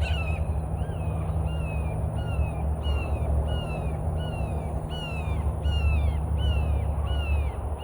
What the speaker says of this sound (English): Now we got 3 hawks flying overhead.